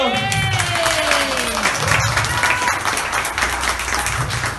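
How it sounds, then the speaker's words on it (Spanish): An audience claps and cheers for a birthday boy at a magic show, with music playing underneath and steady, fairly loud clapping throughout. "Un aplauso para mi amigo"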